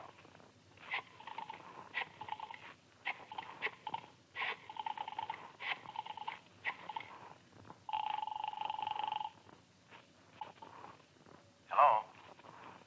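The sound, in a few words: telephone being dialed and ringing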